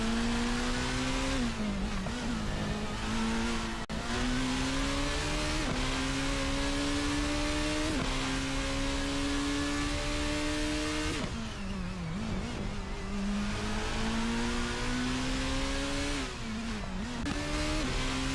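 Onboard sound of the number 54 race car in a racing video game, its engine revving high and dropping repeatedly through gear changes and corners, loud and continuous with no talk.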